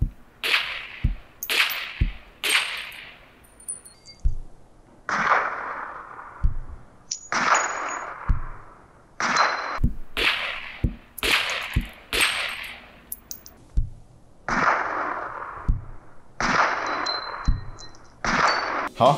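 Gunshot sounds played back through SoundPeats wireless earbuds in low-latency gaming mode: about fifteen sharp, cracking bangs at an uneven pace, each with a short ringing tail, loud and clear with no talking.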